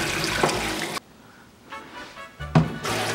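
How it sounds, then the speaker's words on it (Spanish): Water runs from a tap over a stone molcajete being rinsed, a steady splashing stream that stops briefly midway, then resumes with a few knocks of stone. "Vamos a enjuagarlo súper bien, que no quede nada de polvito, que el agua salga bien limpia"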